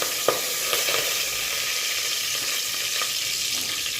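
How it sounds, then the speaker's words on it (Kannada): Curry leaves and mustard seeds sizzle in hot oil over a small flame, a steady bright hiss broken by a few sharp pops and crackles. "ಸ್ಮಾಲ್ ಫ್ಲೇಮಲ್ಲಿ ಕರಿಬೇವು, ಸಾಸಿವೆ, ಎಣ್ಣೆ ಎಲ್ಲ ಕಾದ್ಮೇಲೆ"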